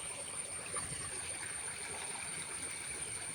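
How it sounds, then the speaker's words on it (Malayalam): Water running along a full field stream channel near a cassava farm, a faint, steady rushing flow heard from a little distance, with no voices. "വെള്ളം പോകുന്ന പോക്കുണ്ട്."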